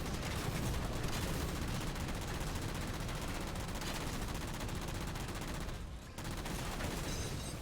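Continuous gunfire in the Halo video game, with dense, rapid automatic shooting that sustains at a fairly even level throughout and is briefly interrupted near the end.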